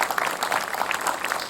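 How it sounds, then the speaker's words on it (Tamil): Audience at a children's fun show applauding a child, a dense, steady burst of many hands clapping close and fairly loud for the whole moment. "குழந்தை ஒரு கைத்தட்டல் கொடுக்கலாங்க குழந்தைக்கு"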